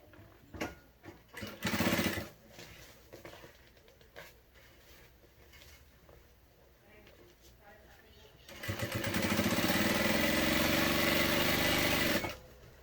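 An electric sewing machine runs in short bursts and then a longer steady whirring stretch while stitching a seam on a child's animal-themed fabric backpack, heard up close with a voice talking in between.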